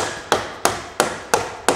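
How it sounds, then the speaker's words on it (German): Plastic hammer tapping an axle through a KTM LC4 motorcycle engine during installation, five sharp evenly spaced knocks about a third of a second apart, close and clear with no talk. "und klopf vorsichtig die Achse durch den Motor"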